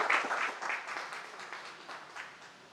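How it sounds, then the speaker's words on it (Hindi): An audience at a Bihar political stage event breaks into applause, a burst of fairly faint clapping that peaks at the start and slowly fades out, with no one speaking. "जोरदार ताली बजाएंगे"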